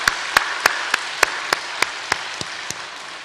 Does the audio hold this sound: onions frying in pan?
no